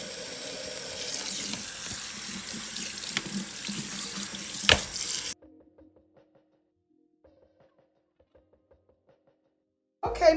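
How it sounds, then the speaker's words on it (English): Warm tap water runs into a sink as meatballs are rinsed: a close, splashing hiss with a sharp knock, then it stops abruptly into near silence with faint clinks before a loud clatter at the end. "So rinse out with some hot warm water."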